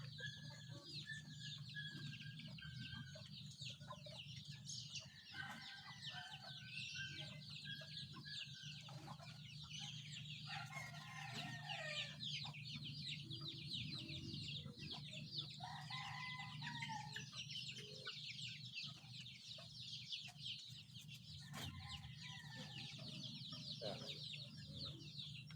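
Chickens cluck and call softly at a distance throughout, with a rooster-like crow at moments, over a constant low hum of background noise.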